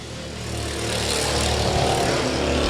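Several small race car engines buzzing around a track at a memorial race just after the green flag, with a rough, droning lawn-mower-like tone that swells gradually and fills the clip without any voices.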